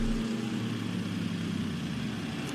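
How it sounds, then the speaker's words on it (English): Vintage Ford Escort race car engine at a VIR race event, idling with a steady, even drone that holds at one level throughout. "So here is the Sean Brown Escort. Look at this thing. I love it. Sounds great"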